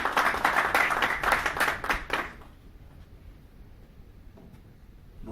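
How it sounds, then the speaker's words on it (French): An audience at a press conference applauds, close dense clapping for about two seconds that then stops abruptly, leaving quiet room tone with a few faint stray sounds. "Applaudis, s'il vous plaît."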